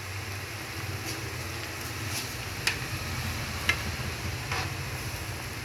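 Nilagang baboy (pork stew) being stirred in a pot, a steady low bubbling and scraping texture with a couple of sharp metallic ticks of the spoon against the pot.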